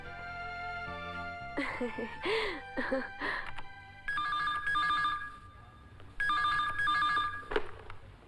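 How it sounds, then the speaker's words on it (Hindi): A telephone ringing in an office in a 2001 Bollywood action film, with repeated electronic ring bursts; someone speaks between and over the early rings. "आपके लिए फोन।"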